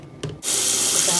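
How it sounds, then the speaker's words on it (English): Running kitchen tap water pours steadily over mushrooms being rinsed in a sink, a close, loud and even hiss that starts suddenly after a brief soft knock, with no voices. "So I'm gonna rinse these off"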